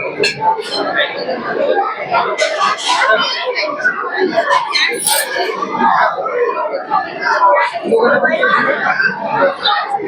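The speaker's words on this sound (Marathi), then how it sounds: "बघा अतिशय गर्दी आहे" Large, dense crowd of devotees at the Ranjangaon Mahaganpati temple, a steady babble of many voices with children calling and occasional shouts, loud and continuous throughout.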